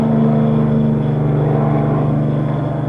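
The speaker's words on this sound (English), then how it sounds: "You probably hear this buzzing going by. That's a helicopter coming over." A steady low buzzing engine drone with strong tonal hum, sustained and fairly loud throughout, from a helicopter passing overhead in Korea in 1954.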